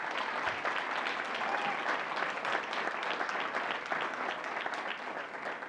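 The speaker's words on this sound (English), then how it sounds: "Give them a big applause for everybody." Sustained audience applause for students at a December school board meeting, a dense steady wash of many hands clapping throughout, fairly distant and even with no break.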